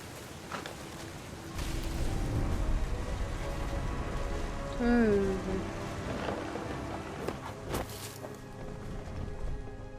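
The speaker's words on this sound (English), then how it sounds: "The rain came down in buckets then" Steady heavy rain pours down in a scene from the video game What Remains of Edith Finch, with a soft hiss under a gliding tonal musical swell and occasional bright clicks.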